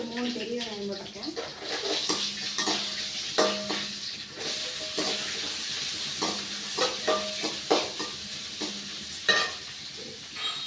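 Three large onions, coarsely chopped, frying in a pan for mutton gravy: an even sizzle with repeated stirring strokes and clinks, with a voice faintly present in the background.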